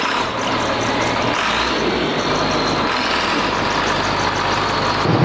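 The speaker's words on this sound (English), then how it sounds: "this is the big tractor we're gonna use to tether up our hay so it can dry" A big farm tractor for tedding hay runs with a loud, steady engine roar and a constant low rumble, close by and without any voices.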